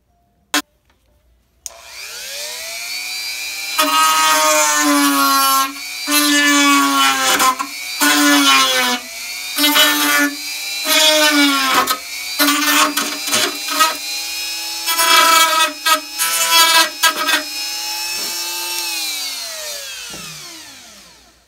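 A close, high-pitched rotary sanding tool whines in repeated bursts as it grinds soft, melting plastic on a Technics turntable dust cover hinge bracket, stopping and starting with brief pauses between passes.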